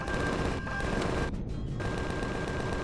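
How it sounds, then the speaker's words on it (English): A minigun blazing away in the space survival game Empyrion, a steady, dense roar of rapid-fire rounds that runs nearly nonstop, loud and close, with one brief dip in the middle. "Using up a lot of minigun bullets, that's for sure."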